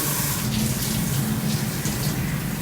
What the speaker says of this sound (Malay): Ratakan air seluruh badan.